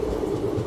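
Pinakini SF Express train passing close by, a steady loud rumble of rail cars on the track, brief and continuous.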